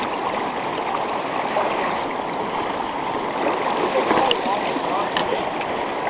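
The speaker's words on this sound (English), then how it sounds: "the water's running really fast here" Fast-running river water at a fat bike crossing (Surly Moonlander) rushes in a steady, loud, continuous wash with no talk.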